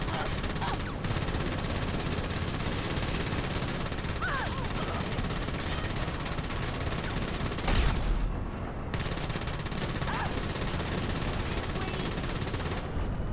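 Constant automatic gunfire in the GTA Online video game, a dense, loud, unbroken rattle that lasts nearly the whole stretch, with one heavier burst near the middle and a faint voice underneath at times.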